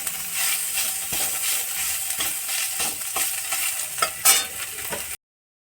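Herb paste sizzles and fries steadily in hot oil while being stirred in a home kitchen, with a continuous crackling hiss and a few sharper spatters near the end.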